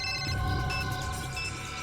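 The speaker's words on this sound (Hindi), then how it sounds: "ये तो वैन के ड्राइवर का फोन है।" A van driver's mobile phone ringing during a tense bomb-defusal scene in an office, a steady electronic ringtone of bright tonal notes over a low background hum, heard alone and moderately close.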